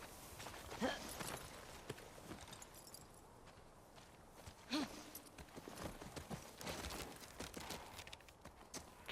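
Hooves of a horse in the video game The Last of Us Part II Remastered clip-clop at a walking pace, steady and fairly close, with an occasional louder thud among the rhythmic steps.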